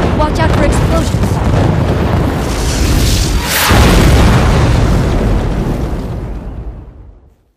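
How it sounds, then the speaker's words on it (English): A deep, rumbling video game explosion in the shooter Raiden V swells and roars, a second blast bursting midway, then the booming tail fades into silence. "Watch out for explosions."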